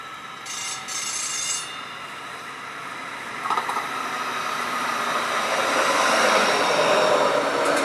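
A train rumbles in and gradually slows, steady rolling noise growing louder with a brief metallic squeal partway through.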